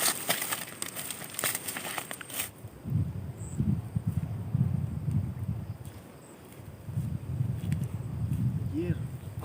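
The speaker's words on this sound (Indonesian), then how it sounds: "angin gede" Strong wind gusts buffeting outdoors, a loud low roar that swells and dips through most of the stretch, after an opening burst of crinkly handling noise, with a voice briefly heard.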